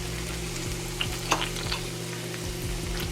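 Lollipop lamb chops sizzle and fry steadily in a pan, a dense crackling hiss running throughout with a few sharp pops and faint clinks, no voices.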